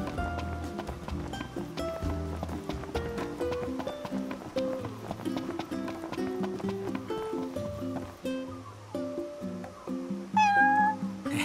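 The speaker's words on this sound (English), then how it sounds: "Hey, buddy. Meow. What's up? Taking a little stroll? Meow." A cat meows repeatedly in the Final Fantasy XV video game, its high calls rising over a steady game music score, with a sharper cluster of meows near the end.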